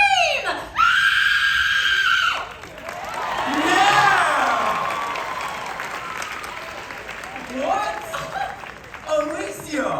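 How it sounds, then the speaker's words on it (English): A woman lets out a long, loud scream at a Universal Studios special effects show, followed by a crowd applauding and cheering, with laughter and shouts rising and falling. "Let's all hear how you would scream."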